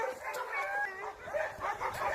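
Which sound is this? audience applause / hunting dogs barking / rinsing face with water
hunting dogs barking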